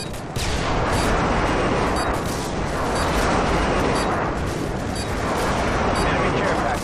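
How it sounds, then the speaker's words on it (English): Airstrike explosions in the game Call of Duty Modern Warfare 2 rumble as a loud, continuous barrage of heavy booms and blasts that overlap without pause for several seconds. "Airstrike inbound."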